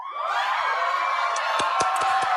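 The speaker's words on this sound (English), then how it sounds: "That crowd is very excited to hear I know." A crowd cheering sound effect with whoops and shouts rising into a loud, sustained roar, with a few sharp clap-like bursts toward the end.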